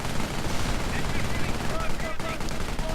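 Machine-gun fire in a wargame video game rattles as dense, continuous automatic bursts, loud and close, with battle noise around them and talk over the top.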